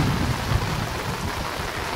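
Rain pours down steadily in a village, a thick, even hiss of falling water with a low rumbling undertone, close and continuous.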